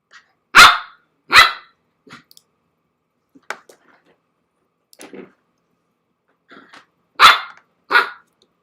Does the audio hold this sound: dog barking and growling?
yes